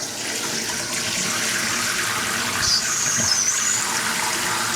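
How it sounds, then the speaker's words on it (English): Cold water runs steadily from a kitchen tap over small potatoes in a colander, a continuous close hiss and splash with no talking. "Let the cold water go."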